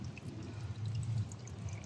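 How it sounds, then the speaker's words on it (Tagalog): Strong water flows and pours steadily at a rock site, making a low, continuous rushing wash that sounds faint and somewhat distant, with no voices over it. "Yan, lakas ng tubig oh."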